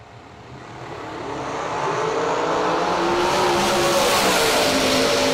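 A Pro-Charged drag race car launches off the start line, its engine roaring loudly as it accelerates and swells in volume and pitch over several seconds without letup.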